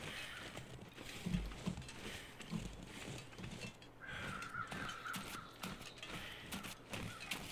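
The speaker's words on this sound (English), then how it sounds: "You can hear the birds, see the birds." Crows cawing in the wintry outdoor world of the survival game The Long Dark, a few scattered calls at moderate distance over a steady wind-like ambient bed, with occasional soft footsteps.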